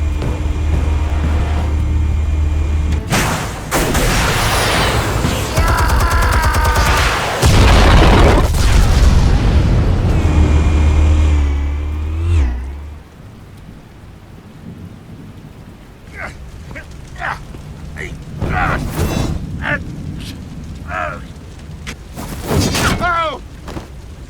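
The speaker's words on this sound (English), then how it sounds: "Explosives armed. Fire when ready." Explosives detonate in Batman: The Telltale Series video game: heavy rumbling blasts roll and boom for several seconds, then fade into debris clatter and scattered crashes, with voices speaking over parts of it.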